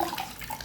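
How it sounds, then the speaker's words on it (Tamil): A jacket soaks and is sloshed in a tub of water while being washed with homemade detergent, brief splashing and swirling water sounds up close. "உங்கள் பாட்டியோட ஜாக்கெட் தண்ணியில் போட்டிருக்கேன்"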